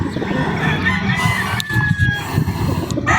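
Chickens and roosters on a farm cluck and crow close by, with a busy, overlapping flock chatter running throughout and a brief high whistle-like call partway through.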